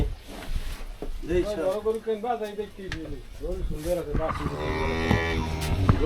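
A sacrificial cow at Eid lets out long, loud, drawn-out moos close by, one after another, while people talk nearby.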